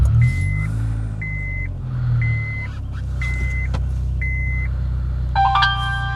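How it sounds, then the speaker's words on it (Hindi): A 70mai Pro Plus+ A500S dual-channel dash cam in a Honda City chimes a short electronic confirmation bong at the end, after a string of regular beeps over the steady low rumble of the car's engine. "सो ये इसकी कंफर्मेशन साउंड है कि कैम ऑन हो गया"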